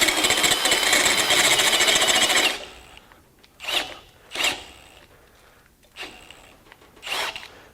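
Milwaukee drill turning a step reamer through 1/2-inch steel, a loud steady grinding cut for over two seconds, then several short separate bursts as the drill bogs and restarts.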